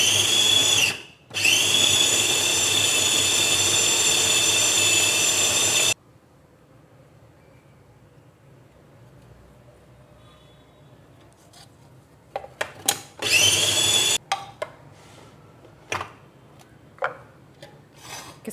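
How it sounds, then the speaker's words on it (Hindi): An electric food chopper whirs loudly and steadily for several seconds while grinding bread into crumbs, then stops. Quiet handling noises follow, and a few short grinding bursts come near the end. "इस तरह मोटे मोटे टुकड़े करके इसके चॉपर में आपने इसको बारीक पीस लेना है।"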